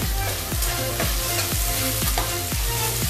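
Chopped onion and chicken sizzle steadily in a pan while Patiala chicken is cooked, with a rhythmic stirring scrape roughly every half second over the continuous frying hiss.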